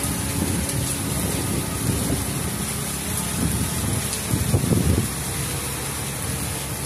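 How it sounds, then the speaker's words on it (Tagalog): Heavy typhoon rain pours steadily in Tarlac City during Typhoon Ulysses, a loud, constant roar of rainfall with no break across the whole stretch. "Kanina wala ganong ulan, pero ganun, ngayon umuulan na."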